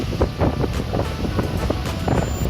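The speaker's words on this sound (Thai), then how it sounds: "เสียงลมเข้ากล้องก็รู้เลยค่ะว่าแรงแค่ไหน" Strong gusts at Bueng Chorakhe Park batter the camera microphone in loud, low rumbling buffets that rise and fall in quick pulses over a few seconds.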